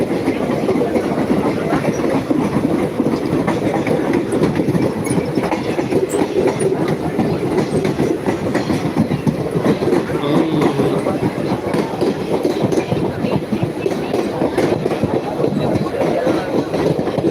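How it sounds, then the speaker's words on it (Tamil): A train departing toward Kakinada rolls past close by, its wheels clattering in a steady clickety-clack over the rails with a constant rumbling roar throughout. "இந்த ட்ரெயின் பக்கம் வந்துச்சு இது கிளம்பிடுச்சு"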